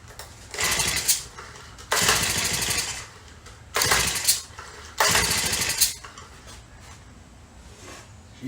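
A Honda mini tiller is pull-started four times in turn, each roughly one-second burst of loud rattling cranking with a sputter, separated by short pauses, close by and without speech.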